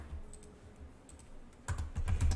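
Shortcut keys pressed on a computer keyboard while working in an illustration program: a quiet stretch, then a cluster of close, crisp key taps near the end, with no talking.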